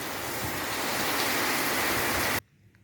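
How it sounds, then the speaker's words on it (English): Very heavy rain pours at a school in a loud, dense, continuous hiss that cuts off abruptly near the end, leaving near silence. "Guys, the rain is very serious though. Very serious. Look at very heavy rain."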